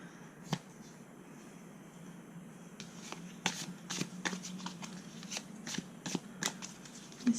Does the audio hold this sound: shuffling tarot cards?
yes